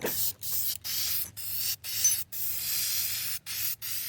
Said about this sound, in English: We're using some hammered finish here.